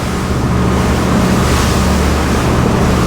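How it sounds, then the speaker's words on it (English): SACS 42 motorboat running at wide open throttle over waves, a loud dense roar of engine, rushing water and wind buffeting the microphone, continuous throughout with no voices. "I'm going to open it up, give it some wide open throttle, and we'll just see what speed we get to."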